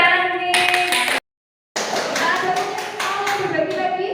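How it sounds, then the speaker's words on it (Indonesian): A school audience claps hands at a positive-discipline dissemination session at SMK PGRI 8 Jogorogo Ngawi, steady close clapping broken by a brief silent gap, with voices talking over it. "Kita tepuk tangan nih."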